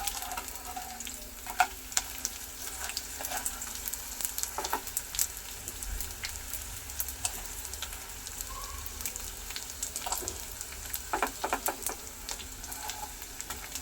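Edible gum puffing and frying in plenty of hot ghee while dry fruit laddu is made, a steady faint sizzle with small pops and crackles scattered through it.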